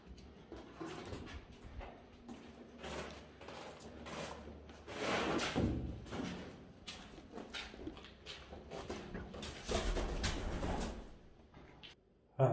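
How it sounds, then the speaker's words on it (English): A pigeon shuffles and flaps about inside an abandoned cinema closed since 1992, giving soft wing flutters, scratchy movements and occasional faint coos against a quiet, hollow room. "I'm having a bit of a dance off here with a pigeon."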